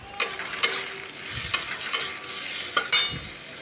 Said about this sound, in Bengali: এর মধ্যে পরিমাণ মতো হলুদ গুঁড়ো দিয়ে দিলাম, টমেটো দিয়ে দিলাম। এবার ভালো করে নাড়িয়ে চাড়িয়ে নেব।